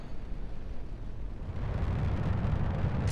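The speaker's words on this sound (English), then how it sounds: "let's just go ahead and get this rocket off the ground" A rocket lifting off in a video game gives a broad, steady roaring rumble. It starts moderately loud and swells louder and fuller as the launch builds.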